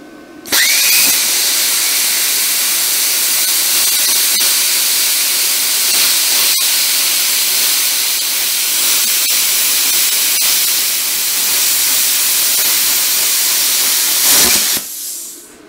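A Vevor CUT-50P plasma cutter set to about 40 amps slicing through 1/8 inch metal, giving a loud, steady roaring hiss that starts abruptly and runs unbroken for roughly fourteen seconds before cutting off.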